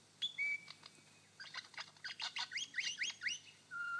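A lyrebird in a Victorian forest mimics a crimson rosella, giving a run of clear, bell-like whistled notes in quick succession, some rising, some falling, close and fairly loud against a quiet background.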